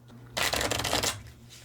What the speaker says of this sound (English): Kind of give these a shuffle.